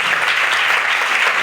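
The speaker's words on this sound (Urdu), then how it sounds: "زوردار تالیاں بجا دیں ایک بار پھر." A congregation claps loudly at a church service, a dense, steady wash of applause lasting a moment and heard close and full.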